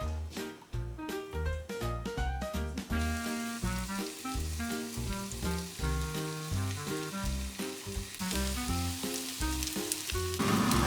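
Steady sizzling of food frying in a pan runs throughout, bright and close, under loud rhythmic music.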